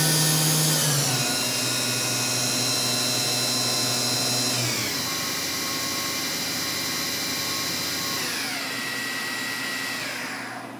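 A Fadal VMC40HT CNC mill spindle spins at 10,000 RPM, giving a loud continuous high whine whose pitch steps down twice as it runs, then fades slightly at the end, with no talk.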